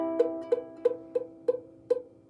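A ukulele string is plucked six times in an even rhythm, each note quick and faint with a slightly dull, buzzy decay from a fretting finger that is not pressing down hard enough.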